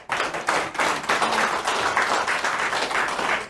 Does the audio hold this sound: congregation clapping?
yes